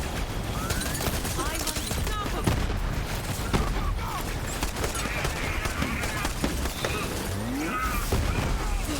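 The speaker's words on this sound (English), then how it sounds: "whatever that damn turret is shooting" Turret shooting in the game Borderlands 3, heard as continuous dense crackling gunfire and explosive bursts throughout, busy and loud, with a voice talking over the chaos.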